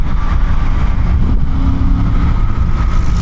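A Suzuki GSX8R motorcycle engine pulling at low RPM, a steady, loud rumble with wind roar layered over it for a few seconds and no speech.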